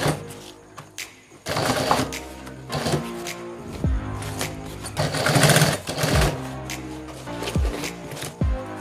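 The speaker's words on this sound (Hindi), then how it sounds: "इसको हम सिलाई करेंगे।" A sewing machine stitches a travel bag in loud, close bursts of rapid whirring, separated by short pauses and the clunks of the fabric being handled.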